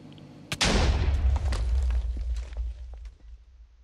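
A nuclear reactor blowing up in Minecraft with the IndustrialCraft 2 mod, one sudden loud blast followed by a deep rumbling roar and crackling debris that fades over a few seconds.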